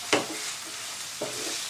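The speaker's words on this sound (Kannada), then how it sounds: "ಕ್ಯಾಬೇಜ್ ಹಾಕ್ತಾ ಇದ್ದೀನಿ, ಇದು ಕೂಡ ಎಣ್ಣೆಯಲ್ಲಿ ಚೆನ್ನಾಗಿ ಫ್ರೈ ಮಾಡ್ಕೊಳ್ಳೋಣ" Shredded cabbage frying in hot oil for vegetable fried rice, a steady close sizzle broken by a few sharp stirring scrapes, with no talking.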